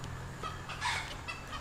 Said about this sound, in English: I hear some chickens.